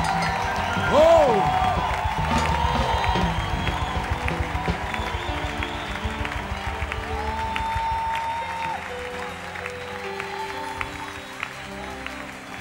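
A church congregation claps together as an offering of praise during a Sunday service, the dense applause mixed with cheering voices and a sustained musical tone for about twelve seconds.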